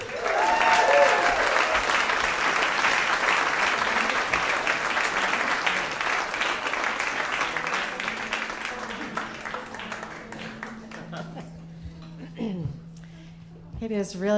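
Live audience at an evening storytelling show at Joe's Pub in New York applauds to welcome a storyteller, a dense, steady clapping that thins out toward the end as a voice starts up.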